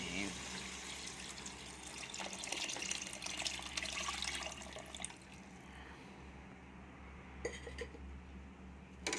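Soup broth is poured into a pot of cooking goat trotters for mutton paye, giving a steady close liquid splash and trickle that fades after a few seconds, with a brief clink near the end.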